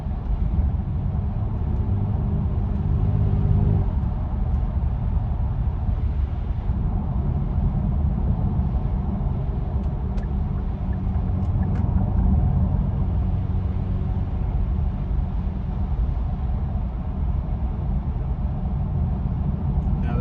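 A Genesis G70 fitted with BMS air intakes cruising, its engine a steady low rumble and drone from inside the cabin, constant and fairly loud throughout with no talking.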